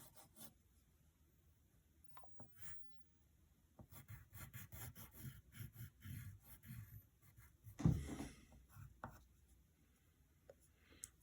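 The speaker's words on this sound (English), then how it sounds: "Then you're going to draw her arm right there." A pencil sketches a cartoon arm on paper, with soft, faint scratching and rubbing strokes in short irregular bursts and one louder scrape partway through.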